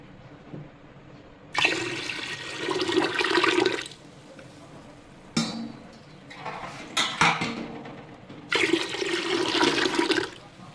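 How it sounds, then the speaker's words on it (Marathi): Water pours in two long splashing bursts into a kitchen container that held soaking wheat for kurdai, with a quieter clattering stretch between them. "आता आपण त्यामध्ये परत पाणी टाकूया."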